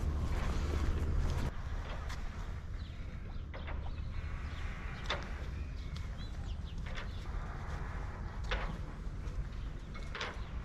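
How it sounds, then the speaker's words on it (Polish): Light wind blowing across a yacht marina in Gdynia with boats moored off-season, a steady soft rushing hiss with faint scattered ticks and creaks, no voices. "wiaterek słabiutki wieje sobie"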